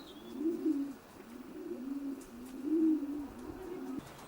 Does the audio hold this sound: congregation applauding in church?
no